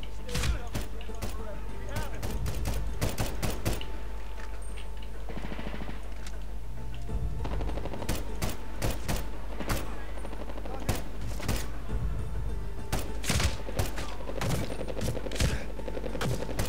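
Gunfire in the video game Medal of Honor Warfighter, with a steady stream of sharp shots and rapid bursts over constant background rumble.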